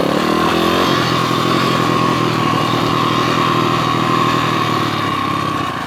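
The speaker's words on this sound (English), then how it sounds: "It's nice to have a bit of engine braking too on the 4-stroke." A four-stroke pit bike engine runs on a dirt enduro trail near a river, a loud, close, steady mid-pitched motor note with slight revving early on, no voices.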